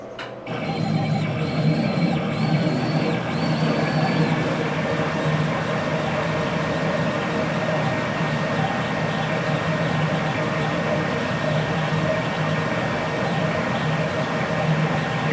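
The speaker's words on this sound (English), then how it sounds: "Here the blower motor kicked on right away when the machine started going." A Chinese CO2 laser engraver cutter, the RMLaser RM960 Pro, starts up with a few brief electronic beeps, then its blower motor and air assist settle into a loud, steady mechanical drone and whir that continues alone throughout.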